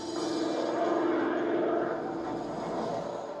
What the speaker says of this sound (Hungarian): több száz szövetséges repülő szállt fel, a normandiai part felé tartva